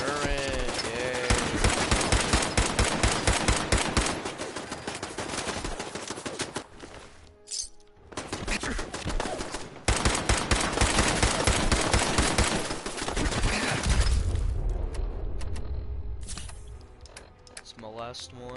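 Turret machine gun fire in Fallout 4, a loud, sustained stream of rapid shots that cuts out briefly, resumes, then fades into quieter game noise near the end.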